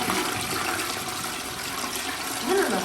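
A toilet flushes after a gel cleaner is applied. Water rushes in a steady, close wash that swells briefly near the end, with no one talking.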